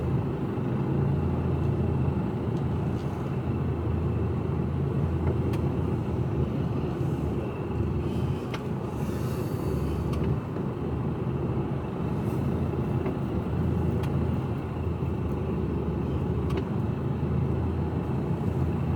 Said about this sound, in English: There's a lot of traffic along here.